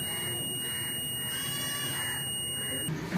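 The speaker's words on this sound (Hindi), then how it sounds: "इसके अंदर से बीप का प्रॉपर साउंड आपको सुनाई दे रहा होगा।" A continuous electronic beep from a multimeter in continuity mode, its probes bridging the wires of a BS6 motorcycle's fuel injector, holds steady and fairly loud for about three seconds before cutting off, with no talk over it.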